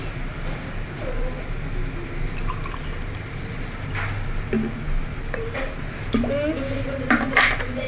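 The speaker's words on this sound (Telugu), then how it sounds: "ఇవి రెండు అయిపోయిన తర్వాత వాటర్ వేసుకోవాలి." Water is poured into a drink mixture, giving a soft, trickling gurgle with scattered drips that builds near the end over a faint, steady kitchen background.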